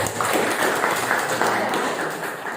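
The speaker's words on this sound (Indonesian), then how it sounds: "sekali lagi kita kasih aplaus untuk kelompok 3" Applause from a seated audience for the third student group after their presentation in an academic supervision session, steady dense clapping lasting a couple of seconds and slowly fading.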